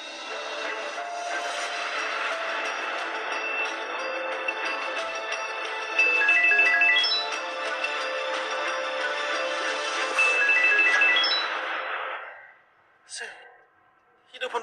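A phone rings and nobody answers. A musical ringtone repeats its melody about every four seconds for roughly twelve seconds, then stops abruptly and leaves a few faint, scattered sounds.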